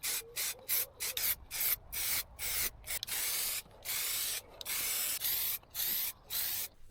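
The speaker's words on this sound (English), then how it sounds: "Filling, sanding, more filling, more sanding." Steady rhythmic rubbing strokes of sandpaper on filler on an RC car body, about a dozen short scrapes with brief pauses, close and fairly quiet.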